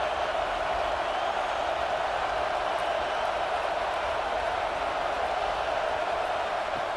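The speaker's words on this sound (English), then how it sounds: "Listen to the crowd energy here in the early going" Stadium crowd in a College Football 26 video game, Georgia Tech versus Georgia, a steady broad roar of cheering voices filling the air without pause, with faint speech mixed in.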